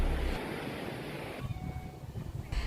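Surf washing onto the beach at Sunrise Land in East Lombok, a soft continuous rush of waves with wind, fairly faint and with no voices.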